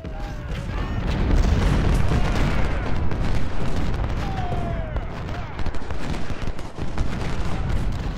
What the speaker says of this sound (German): Kanonenfeuer frei.